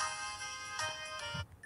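A Nokia 2780 phone plays a bright, tonal ringtone, a short sustained melodic burst that is clear and close, ending abruptly after about a second and a half.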